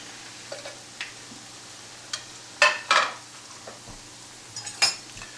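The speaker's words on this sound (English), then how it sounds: "These croutons are only going to take about 30 seconds to 1 minute to cook." Croutons frying in a pot of hot oil on medium-high heat: a faint steady sizzle under scattered clinks and scrapes of a utensil against the pot, with a few sharper louder knocks midway and near the end.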